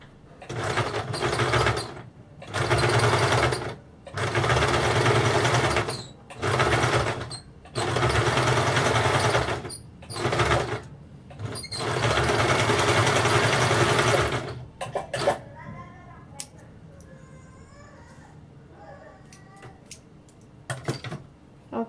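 Electric sewing machine stitching blouse fabric in loud bursts of a few seconds each, separated by short pauses, then quieter handling clicks and light rustling.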